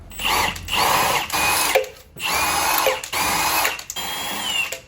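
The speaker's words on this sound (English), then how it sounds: "we're gonna go ahead and get these lug nuts off" An impact gun removes lug nuts from a 2013 Ford F-150 wheel in repeated loud, close bursts of buzzing hammering, each lasting about a second, separated by brief pauses.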